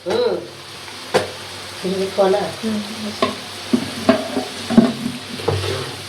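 Chicken egg chow mein fries in a pan while a spatula stirs and scrapes it, giving irregular clattering strokes over a constant close sizzle, with a voice talking underneath.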